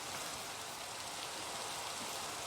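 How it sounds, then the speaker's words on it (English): Steady, even rainfall in the Minecraft video game, a constant soft hiss of falling drops with no pauses, moderately quiet and heard alone. "So what? It's raining."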